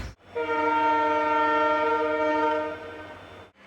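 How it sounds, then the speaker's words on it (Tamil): Horn of the 16844 Palakkad Town–Tiruchirappalli Express sounding at Palakkad Town station as it departs: one long, loud, steady harmonic blast lasting about three seconds, close by, with no voices. "16844 Palakkad Town Tiruchirappalli Express is ready to leave from platform number 2."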